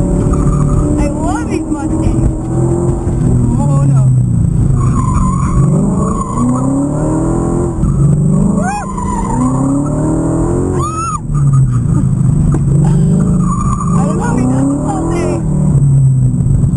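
A Ford car on a hot lap outside the SEMA show in 2012, with engine revving in rising and falling sweeps and repeated tire squeal through hard turns, loud and close, with voices heard over it.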